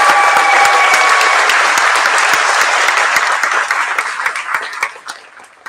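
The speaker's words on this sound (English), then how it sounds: "How about another round of applause?" A concert audience claps loudly in sustained applause for students at a school jazz combo and symphonic band spring concert, which gradually thins out and fades toward the end.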